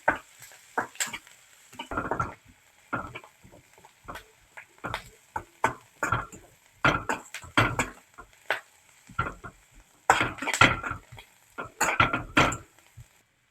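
Onion, garlic and ginger being sautéed in a pan, heard mostly as a spoon stirring and scraping in irregular clinks and knocks with a faint sizzle underneath, fairly quiet and without talk.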